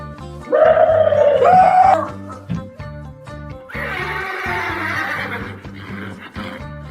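A horse whinnies loudly and shrilly twice, the second call longer, with other noisy sounds in between.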